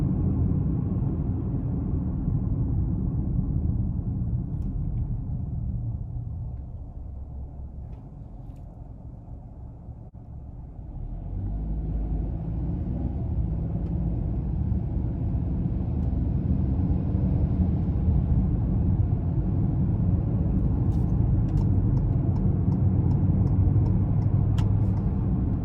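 A 2021 Ford Bronco Sport Big Bend's engine hums and rumbles steadily, dips briefly, then swells with a stronger, sustained roar as it accelerates, heard from inside the cabin with no one talking.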